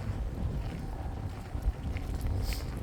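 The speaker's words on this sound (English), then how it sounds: "it's a little bit windy now" Wind buffeting a microphone outdoors, low rumbling gusts that swell and fade, fairly steady and close, with no talk.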